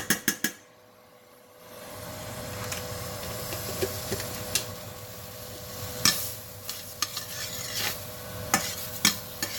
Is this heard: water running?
no